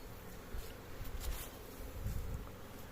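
Honeybees buzzing around a hive as a colony is moved from a nucleus box into a full hive, a dense steady hum of many wings close by, with no voices.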